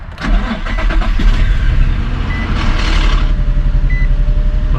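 A 2003–2007 Infiniti G35 fires up after a knock sensor replacement: a short crank catches into a loud, close engine that settles into a steady idle, with a faint beeping tone partway through.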